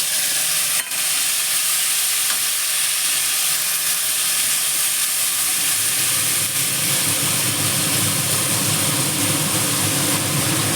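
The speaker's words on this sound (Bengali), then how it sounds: "এই যে ভেজানো মশলাটা এখন তেলের মধ্যে ছেড়ে দিলাম।" Soaked spice paste hits hot oil with black cumin: a loud, dense, hissing sizzle that holds steady throughout, close by, with a faint clunk near the start and a deeper bubbling rumble building in the second half.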